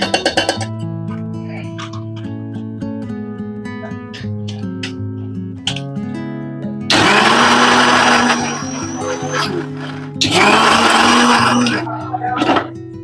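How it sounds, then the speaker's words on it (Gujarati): A kitchen mixer grinder crushes boiled raw mango into chutney paste in two loud, whirring bursts of a couple of seconds each, with background music playing before and between them. "હવે આપણે એને મિક્સરમાં થોડુંક ક્રશ કરી લેશું."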